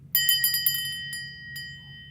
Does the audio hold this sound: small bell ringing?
yes